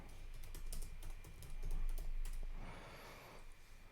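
Rapid typing on a computer keyboard, a quick run of close, light key clicks over about two and a half seconds, then quieter background with no speech.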